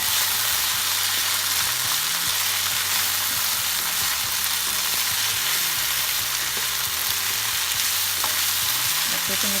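Pasta stirring and frying in a pan for an Italian pasta dish, a steady broadband sizzle with repeated scraping and mixing strokes throughout, close and continuous with no talking.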